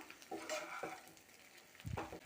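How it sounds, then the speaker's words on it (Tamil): Cooked idli pieces being stirred into masala in a pan, with a few scraping spatula strokes and soft sizzling, ending in a louder burst of stirring clatter. "இப்போ இதில் நம்ம வச்சுருக்க இட்லி சேர்த்துடலாம் நல்லா மசாலாவோட சேர்த்து கலந்து விட்டுறலாம்"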